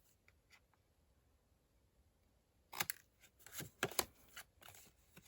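Scissors snip through paper to cut out a tag shape, heard as a quick cluster of close, crisp cuts after a quiet start, with no talking.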